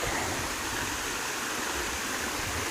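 A small creek flows steadily in a continuous, close rushing and gurgling wash of water, with no voices over it.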